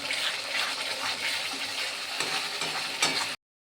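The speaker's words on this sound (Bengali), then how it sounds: "দিয়ে মশলাটা ভালো করে কষিয়ে নিই" Spice paste with Kashmiri chilli powder and green chillies being sautéed in a pan for a rohu fish curry, a continuous close sizzle with wet stirring scrapes, steady throughout before stopping abruptly.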